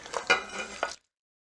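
Chicken and other ingredients are stirred in a sizzling pan, with a few scraping strokes and clinks of the utensil over frying hiss, close and fairly quiet, cutting off abruptly.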